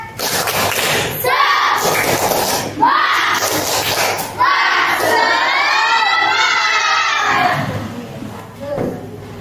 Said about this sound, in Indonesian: Tepuk semangat di mana? Tepuk semangat.